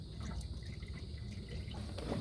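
Coolant drips and trickles from a leaking radiator bolt on a V8-swapped Blazer, a steady wet patter close by under a low engine rumble.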